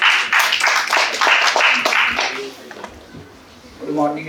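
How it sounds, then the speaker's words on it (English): A room of attendees at an ideathon claps for about two seconds in a brief, moderately loud burst that fades out, followed by a pause and then a voice speaking. "Can we have a round of applause,"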